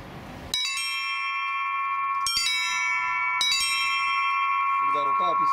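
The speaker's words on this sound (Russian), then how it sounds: "Из украшения вот игры на колоколах есть такие приемы, как форшлаг" Church bells from the Litex foundry in Moscow and the Shuvalov foundry in Tutaev are struck with a quick grace-note ornament. After a brief noisy start, three clear bell strikes ring out with long sustained overlapping tones, and a voice enters near the end.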